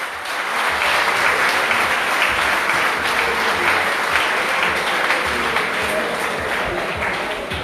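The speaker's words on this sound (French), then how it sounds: "Donc ça mérite de beaux applaudissements." A crowd applauds dance medal winners at an evening event, a loud, sustained wash of clapping from many hands that holds steady for several seconds. Voices mix faintly into it.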